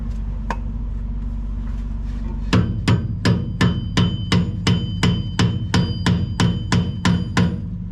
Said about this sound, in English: we're actually driving that rear bearing into the transmission housing, and that's seating that bearing.